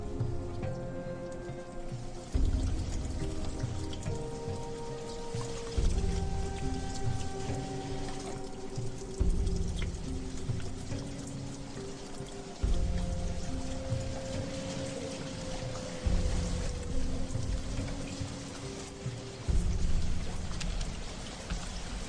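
Heavy rain pours down without a break, a loud steady hiss of falling water, with sustained low musical tones running underneath and no talk.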